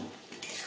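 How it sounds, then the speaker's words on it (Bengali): A spoon stirs paneer with potatoes and spices in a pan for a brief moment, giving a scraping clatter of metal against the pan with a faint sizzle and no talking. "মশলার সাথে ও আলুর সাথে পনির বেশ ভালো করে মিক্সড করে দেবো"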